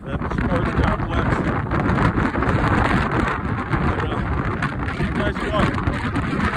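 Strong wind buffets the microphone outdoors at a winter park, a loud rumbling, gusty roar that stays continuous throughout.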